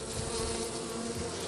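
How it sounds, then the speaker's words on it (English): Honeybees fan their wings at the entrance of a ten-frame hive box where a nuc is being installed, a dense, steady, close buzzing hum that continues without a break. "But now, these bees down here, well, they stopped. They're gonna start fanning,"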